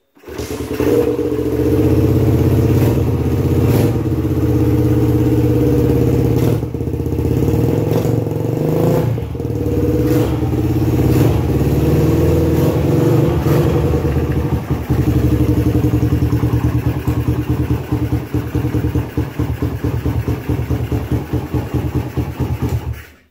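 A Suzuki Satria FU motorcycle engine, unstarted for weeks, runs close by with a steady, chugging idle that swells into revs now and then, continuing throughout.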